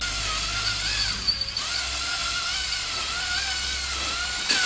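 A power drill with a mixing paddle churns polished-concrete resin paste for a tabletop, whining steadily and close with slight pitch wobbles and a faint rattle throughout, no voices.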